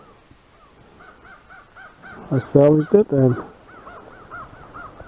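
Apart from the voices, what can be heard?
crows cawing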